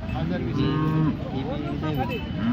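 Cows moo at the Modnimb cattle market, several drawn-out lowing calls from close animals, one after another, over the steady murmur of a busy livestock bazaar.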